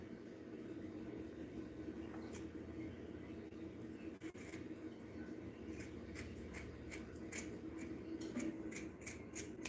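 Scissors snip hair on a TOTS mask, a run of crisp, quick cuts over a low room hum, sparse at first and then coming in a faster, regular series.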